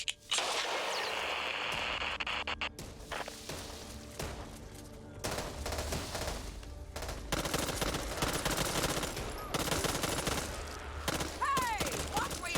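Gunfire in the co-op zombie shooter Back 4 Blood: dense, sustained bursts of automatic weapon fire and rapid shots, loud and close, continuing almost without pause with sharp whip-like cracks throughout.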